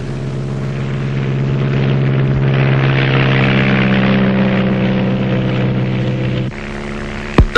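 Two small propeller planes fly over rainforest, their engines droning in a loud, continuous steady hum that shifts slightly in pitch toward the end, with no voices.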